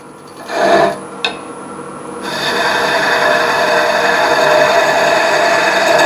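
Sharp skew chisel cutting wood on a lathe turning at about 600 RPM, starting with brief scrapes and a tap, then settling into a steady, close rasping hiss that continues to the end.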